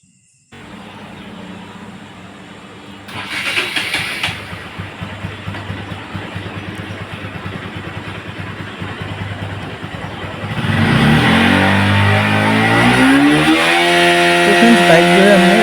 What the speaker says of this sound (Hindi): बाइक जो है हमने स्टार्ट कर लिया